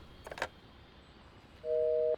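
Phone busy signal in the video game KONA: after a couple of faint clicks, a single steady electronic tone sounds for about half a second, clear and isolated against a quiet background.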